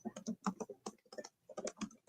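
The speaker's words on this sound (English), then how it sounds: "Are you sending me something, or are you just typing?" Rapid typing on a computer keyboard during a live sports reaction stream: a quick, dense burst of soft key taps in short uneven runs, fairly quiet and close, with no talk over it.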